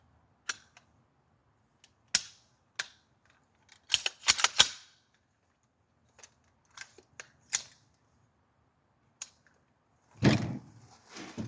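A 7.5-inch AR rifle fires 5.56 rounds at 100 yards, heard as scattered sharp cracks, some single and some in quick clusters, ending in a louder, broader burst; distant-sounding outdoor reports with quiet gaps between and no talking.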